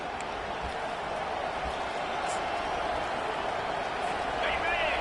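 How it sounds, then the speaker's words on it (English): A stadium crowd roars in a steady, dense wash of cheering at a college football game, loud and continuous throughout with no clear breaks, while a commentator's voice sits faintly on top. "This crowd, full throat, splitting the eardrums"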